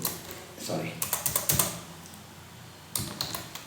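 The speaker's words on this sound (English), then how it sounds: "Then I will start typing the text." Typing text on a computer keyboard, a quick run of close key clicks in two bursts separated by a brief pause, heard over a soft background hiss.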